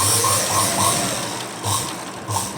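Sewing machine stitching a folded cloth fall onto a saree, running in short rapid bursts of mechanical clatter with brief pauses between them, close and fairly loud, with no talking.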